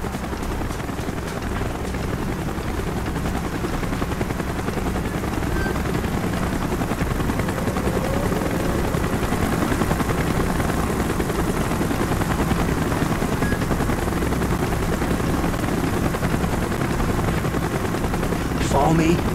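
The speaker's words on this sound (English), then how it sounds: "Choppers inbound! Move it!" Helicopters arrive during a Call of Duty: Black Ops mission, their steady rotor roar filling the whole stretch with faint bursts of gunfire mixed in.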